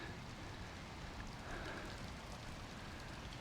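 Steady, dense rain from Hurricane Debby pours down with a constant hiss and patter, fairly loud and continuous with no voices.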